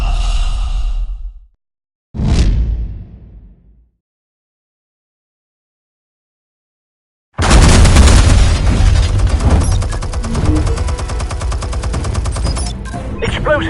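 Explosions in a PS4 video game: two heavy booms in the first few seconds, the second decaying slowly, then near-silence before a dense, loud stretch of continuous blasts and rapid gunfire-like bursts.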